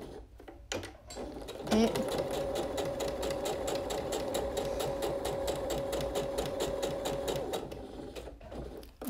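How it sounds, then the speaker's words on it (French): Sewing machine backstitching to lock the seam on a Jade blouse, a fast steady close-up whir of needle strokes running for several seconds between short pauses, with a brief word spoken. "Je fais mes points d'arrêt."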